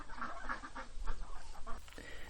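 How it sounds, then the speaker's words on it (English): A loose chicken clucks in quick, close, busy bursts, the murmuring calls running continuously over low outdoor background noise. "we got a chicken on the loose."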